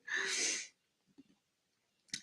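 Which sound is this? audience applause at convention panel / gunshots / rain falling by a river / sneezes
sneezes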